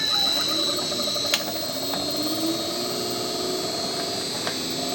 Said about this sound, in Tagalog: Sumandar yung compressor.